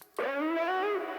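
A person's own voice pitched up twelve semitones and soaked in heavy effects rings out as one sustained, buzzing, harmonic vocal tone lasting about a second after a short silence.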